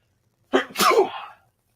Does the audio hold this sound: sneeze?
yes